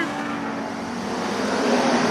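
Street stock race cars at Carina Speedway roar past close by, their engines loud and climbing in pitch as they pull down the straightaway.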